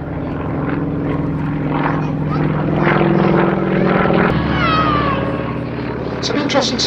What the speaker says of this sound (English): The aeroplane's quite small in size, with a wingspan of just 7 metres and weighs just 750 kilos.